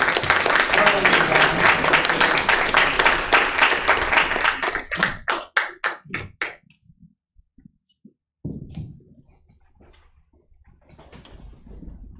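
A church congregation at Sunday worship applauds to welcome the pastor to the pulpit: dense, loud clapping that rises and then breaks into scattered final claps before a few isolated sounds and the pastor beginning to speak.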